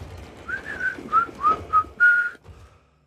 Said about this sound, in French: Siffler en travaillant.